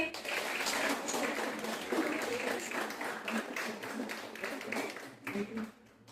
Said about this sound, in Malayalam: ഇഷ്ടപ്പെട്ടെങ്കിൽ ഒന്ന് കൈയടിച്ച്